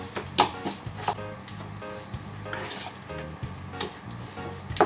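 Ground meat mixture for meatballs being stirred in a bowl, soft repeated scraping and light clinks of a utensil against the dish, close and quiet with no talk.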